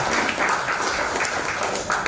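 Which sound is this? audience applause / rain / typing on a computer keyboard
audience applause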